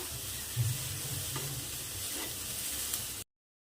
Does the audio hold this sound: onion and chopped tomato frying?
yes